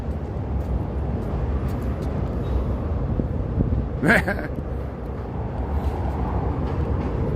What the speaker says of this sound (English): Hear the train going by. It's pulling into the station there.